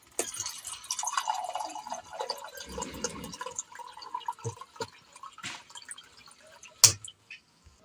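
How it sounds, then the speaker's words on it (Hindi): Water is filled into a container at home: close, uneven trickling and dripping with small splashes and a sharp knock near the end, with no talking. "ये पानी अभी हमने अब्बू के लिए भर लिया।"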